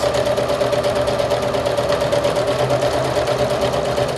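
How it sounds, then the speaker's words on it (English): A sewing machine runs steadily through a folded-over finished edge, a loud, continuous rapid stitching whir with no pauses and no voices. "I'm just gonna turn it over one more time and sew the finished edge"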